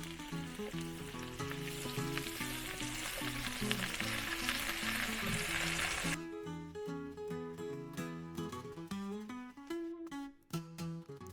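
Chopped, salted potatoes frying and browning in a pan, with a soft, even sizzle under background music for about six seconds before the music carries on alone.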